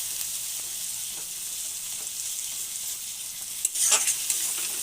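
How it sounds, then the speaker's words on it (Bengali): Spice paste with turmeric frying in oil, a steady bright sizzle throughout with a few soft stirring scrapes and a louder clatter near the end. "এখন বন্ধুরা মশলাটা সুন্দর করে তেল ছাড়ছে"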